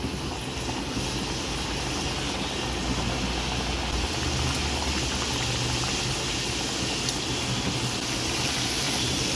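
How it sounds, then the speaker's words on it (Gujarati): Kachori deep-frying in hot oil over a low gas flame makes a dense, continuous bubbling and crackling close by, steady throughout with no talking. "તેમાં આપણે જે તૈયાર કરી છે કચોરી એને આપણે તળશું"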